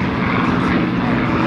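Hawker Hurricane aircraft taking off at the Duxford air show, a continuous loud piston-engine and propeller roar filling the whole moment without a break.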